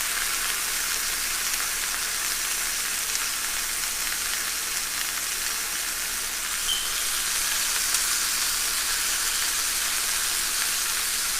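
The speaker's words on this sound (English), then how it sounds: "Just trying to really get them all in the pan." Oxtails searing in a hot pan, a loud, even, continuous sizzle like heavy rain that holds steady throughout, close up and with no talk.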